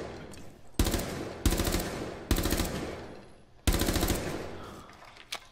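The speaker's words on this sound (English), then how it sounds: "Why are you firing into there, Rook?" Automatic gunfire in the tactical shooter Rainbow Six Siege, fired in four sharp, loud bursts with short pauses between them and a faint sharp shot near the end, with no talk over it.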